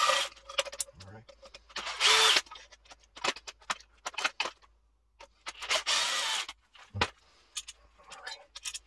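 A power drill fitted with an Allen bit unscrews the bolts of a pump motor during disassembly, giving several short, close whirring bursts separated by quiet clicks and handling sounds.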